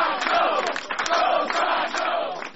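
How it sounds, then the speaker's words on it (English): Crowd of supporters at a Scott Brown campaign rally chanting "Go Scott, Go" in a loud rhythmic unison chant, repeated several times in quick succession. "Crowds chanting "Go Scott, Go" as Brown's three-day bus tour makes stops in Quincy, Hyannis, and Middleborough"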